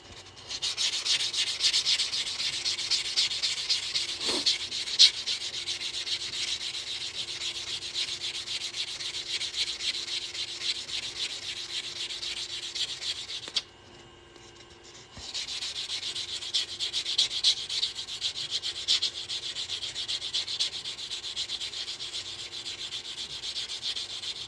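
A cut edge of a ring made from coins (quarters) is sanded by hand in a steady, close rasping rub that runs continuously, pauses briefly midway, then resumes.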